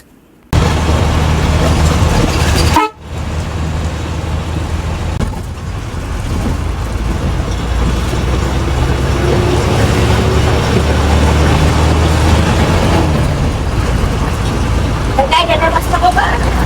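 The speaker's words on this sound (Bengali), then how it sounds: "আশুক লেল্যান্ড বাসের ইঞ্জিন সাউন্ড আপনাদের কাছে কেমন লাগে" Ashok Leyland bus engine of an Ananna Classic coach on the Dhaka to Kishoreganj road: a loud, steady low drone with road rumble that barely dips around three seconds, then holds for the rest of the ride.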